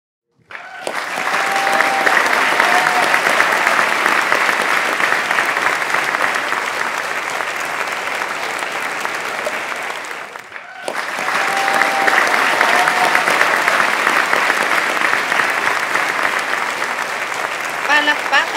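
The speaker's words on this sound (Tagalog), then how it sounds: "hiling ko po bayay pumalakpak kayo" An audience applauds to judge a Filipino poetry debate, with two long waves of loud, sustained clapping separated by a brief dip, and faint voices beneath the crowd noise.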